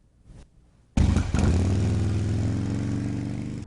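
Loud motorcycle engines at a rally, starting with a sharp burst that settles into a steady, heavy rumble with a throbbing, pulsing low tone. No talk is heard.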